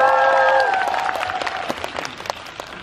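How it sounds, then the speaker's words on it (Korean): Audience applause at a Korean film premiere talk event with the cast and director, a dense clapping wash that starts loud and gradually thins out, with faint music tones fading at the start. "박수 부탁드립니다."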